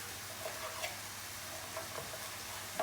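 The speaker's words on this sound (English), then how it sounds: "Right, bacon's starting to cook off." Bacon and sliced whole chorizo sausage sizzle quietly in a pan, a steady soft crackle with faint scattered pops and light taps, no talking.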